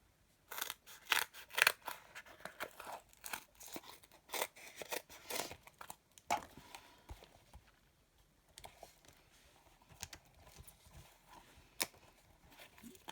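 Scissors snip through double-sided foam tape in a run of quick, close cuts, busiest early on and then sparser, with a faint crinkle of backing between snips and no talking.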